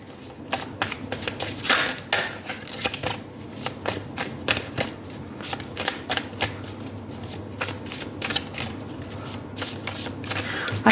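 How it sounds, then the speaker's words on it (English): Tarot cards are shuffled close up, a continuous run of crisp riffling clicks and flutters with rhythmic bursts, going on without any talking. "we'll first shuffle the cards"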